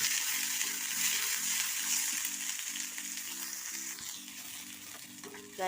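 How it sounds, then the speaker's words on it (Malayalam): Sliced onion sautés in a hot pan for a roasted gram chutney, giving a steady, close sizzle with soft stirring scrapes and a low electric hum underneath; no one speaks. "നമുക്കിനി ഒരു സവാള ഒന്ന് വഴറ്റി അതുകൊണ്ട് അല്പം ഒന്ന് ചെറുതായിട്ടൊന്ന് വാക്കിയെടുക്കാം"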